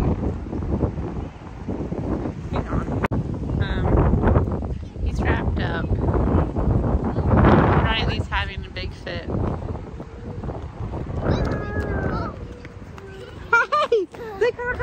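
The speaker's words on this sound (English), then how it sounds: "So the storm is blowing in. It's quite windy, quite cold." Strong wind of an incoming storm buffets and roars across the microphone in gusts on a cold day, with voices talking and children's calls breaking through.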